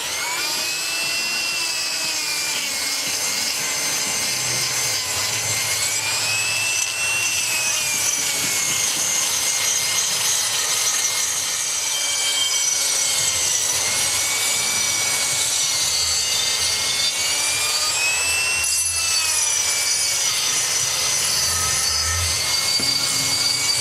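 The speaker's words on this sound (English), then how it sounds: "I put a little barrel sander on there this time." A small barrel sander smooths aluminum wire stock with a steady, continuous high-pitched whine and grinding rub. It stays loud and close for the whole stretch, with no talk over it.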